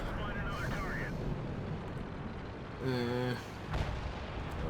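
Cannon fire from a T-54 tank in a video game: a single heavy boom midway through, rumbling under steady wind-like background noise, with a voice talking nearby.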